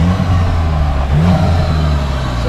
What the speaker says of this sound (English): I'll rev it, turn it on for you.